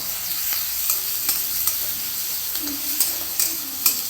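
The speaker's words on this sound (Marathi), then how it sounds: "यानंतर आपण ही जी हिरवी मिरची आणि लसूण बारीक केलं तो यामध्ये टाकून देऊ आणि याला छान असं तळून घेऊ" Chopped green chilli and garlic frying in hot oil with mustard seeds for a ridge gourd dish, a steady hissing sizzle with regular light stirring taps, close and alone.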